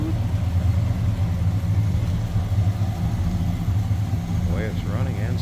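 A 1965 Mercury Monterey convertible's 390 V8 idles smoothly with a steady low rumble throughout, automatic transmission in park, while a person talks briefly near the end.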